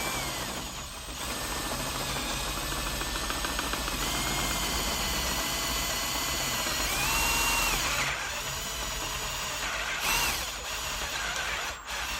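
Power drill boring a hole into a chair leg with a bit marked for 1 3/4 inch depth, running as a steady, loud whine with slight changes in pitch as it cuts.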